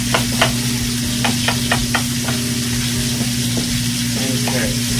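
Spanish onion and celery frying for braised short ribs, a loud, even sizzle with a run of quick stirring clicks near the start over a constant low kitchen hum.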